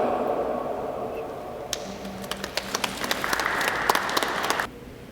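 A congregation at a funeral service breaks into applause, a loud rolling patter of many hands building over a few seconds and then stopping abruptly, with some murmuring beforehand.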